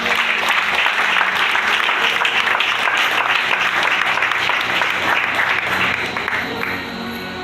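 A church congregation at a prayer service applauds in loud, sustained clapping that fills the room, easing off slightly near the end.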